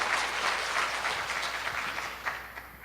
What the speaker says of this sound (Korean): 박수 쳐주셔도 좋습니다